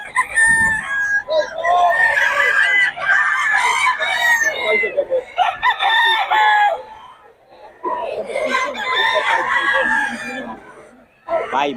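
Rooster crowing loudly and repeatedly at a cockfighting rooster seller's yard in Bocaue, with clucking from other fowl and chicken calls overlapping in long, close bursts, with brief pauses between crows.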